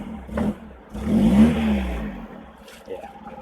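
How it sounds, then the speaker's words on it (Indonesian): A retro Toyota Starlet's engine revs up briefly with a rising roar, then settles back down as a person talks over it. "Kalau saya geber pun."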